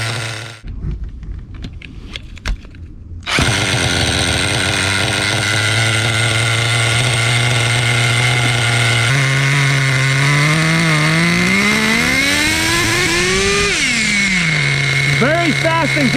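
A Schumacher Menace 21 nitro RC truck with a 3-speed gearbox starts up after a few clicks and rattles, then its small engine screams loudly and steadily up close, rising and falling in pitch as it revs and shifts.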